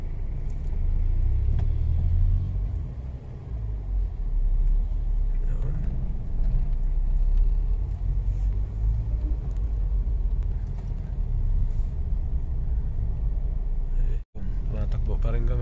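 A struggling car engine with its check-engine light on rumbles heavily and continuously from close by, a low, labored drone with slight surges, cutting out briefly near the end.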